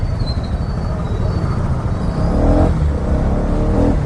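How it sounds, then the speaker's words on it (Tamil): Road traffic around a rider on a KTM Duke 250 heading to a showroom: a steady wash of engine and tyre noise, with a vehicle passing or revving more loudly near the end. "ஐயோ டிராஃபிக்."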